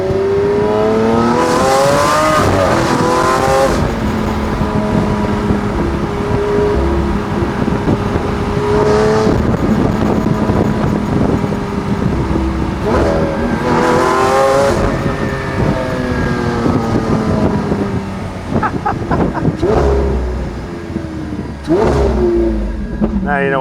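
A Lamborghini Aventador engine revs and accelerates hard, loud and close, its note rising and falling in several surging pulls with brief lifts between them.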